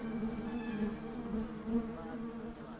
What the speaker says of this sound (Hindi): उन्हें सावधानी से हिलाते हैं ताकि मधुमक्खियां तुरंत निकल जाएं